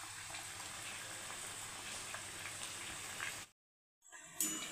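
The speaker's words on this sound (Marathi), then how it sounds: "त्याच्यासाठी आपल्याला मीडियम गॅसवरच वडे तळून घ्यायचे" Dal vadas deep-fry in oil over a medium gas flame, a soft, steady bubbling sizzle heard close and fairly faint, cutting out briefly near the end before resuming.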